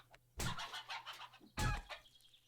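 A chicken in the survival video game 7 Days to Die gives two bursts of clucking, close and fairly faint, with short squawks trailing after each.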